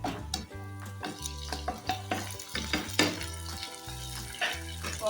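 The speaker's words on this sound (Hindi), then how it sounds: "प्याज को फ्राई करेंगे अच्छी तरह।" Onions fry and get stirred in a pan, a sizzling hiss with scraping stir strokes heard beneath louder rhythmic music.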